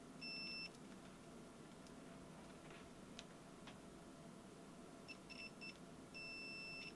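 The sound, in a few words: multimeter continuity test beep on a fuse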